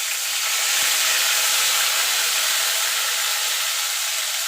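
Ginger and green chilli paste sizzles in hot oil left over from frying potatoes, giving a steady, bright hiss that holds evenly from start to finish with no voices.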